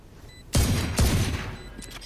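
Gunfire from the video game Valorant: two loud, sharp shots land about half a second apart, each with a booming tail that fades quickly.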